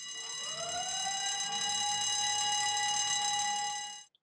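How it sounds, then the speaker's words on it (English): A loud, steady site evacuation alarm siren sounded from a weighbridge rises quickly to a sustained wailing tone, holds for several seconds, then cuts off abruptly. "an evacuation alarm will be triggered from the weighbridge, which sounds like this."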